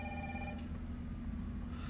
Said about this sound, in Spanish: Suena el teléfono.